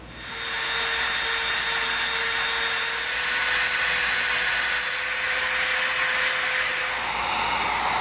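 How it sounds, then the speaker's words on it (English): A Dremel rotary tool grinds steadily and loudly, rounding off an edge of EVA foam with a continuous high whine that holds for several seconds without any talking. "now before we do that, we're going to round this off with the Dremel"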